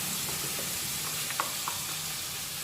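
Ground coconut paste hitting tomatoes already softened in a hot pan for a Kerala-style fish curry, giving a steady, even sizzle and crackle throughout with a couple of faint stirring taps, no voices.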